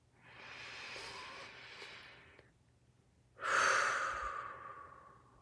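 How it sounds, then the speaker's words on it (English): A slow, deep breath drawn in through the nose, soft and close, followed after a pause by a louder, airy exhale. "One breath in."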